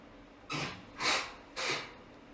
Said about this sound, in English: that's the sound of our hose attachment on the outside of our house